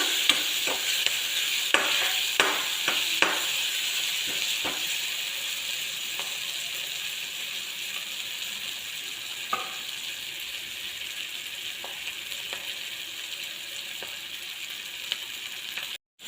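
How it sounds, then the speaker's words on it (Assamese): Onions frying in a pan with turmeric and ground spices for a meat curry, giving a long, steady sizzle at close range, with intermittent clicks and scrapes of stirring and no talk. "এতিয়া পিঁয়াজখিনি ৰংচুৱা হোৱালৈকে ভাজি থাকিম।"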